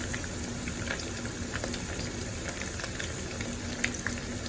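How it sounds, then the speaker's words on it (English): Lemon garlic chicken frying in a pan until golden brown, giving a steady, close crackle and sizzle with small scattered pops throughout. "now we'll just let it fry until it becomes a nice golden brown."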